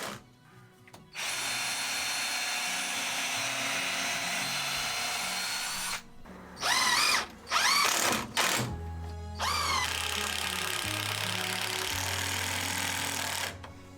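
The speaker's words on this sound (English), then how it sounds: "We started by screwing the first batten into place." Power drill driving screws to fix a roof batten in place, steady whine with several short revving bursts in the middle, alone without talk.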